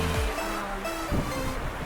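Ocean waves wash steadily alongside the Carnival Sunshine cruise ship on a Christmas cruise, a continuous rushing surf with a brief louder surge partway through and no voices.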